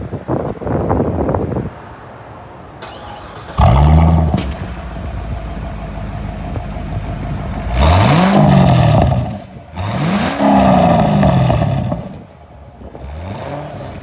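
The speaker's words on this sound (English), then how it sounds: "We'll hear how that performance exhaust sounds" A 2011 Chevrolet Corvette Convertible's engine revs hard several times through a throaty performance exhaust, pitch climbing and dropping with each blip, with gusty wind noise on the microphone.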